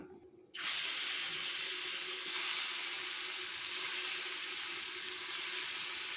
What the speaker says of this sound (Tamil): இதை நம்ம ஒன்று ஒன்றா எடுத்து போட்டுக்கலாம்.